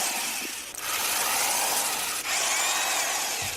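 A voice imitates a power drill, producing two loud, sustained buzzing whines with shifting pitch and a brief break between them, close and alone.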